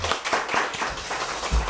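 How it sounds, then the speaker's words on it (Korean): A small church congregation gives welcoming applause, a short burst of close, uneven hand clapping with sharp individual claps and no talking. "환영의 박수 하겠습니다."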